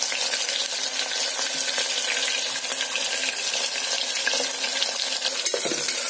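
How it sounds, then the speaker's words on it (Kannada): Cumin seeds and chopped onion fry in hot oil while cooking a homemade pulao, giving a steady, close, dense sizzle and hiss with faint stirring scrapes throughout and no voices. "ಉಳ್ಳಾಗಡ್ಡಿ ಸ್ವಲ್ಪ ಬ್ರೌನ್ ಕಲರ್ ಬರೋವರೆಗೂ ನಾವು ಎಣ್ಣೆಯಲ್ಲಿ ಫ್ರೈ ಮಾಡ್ಕೊಳ್ಳೋಣ"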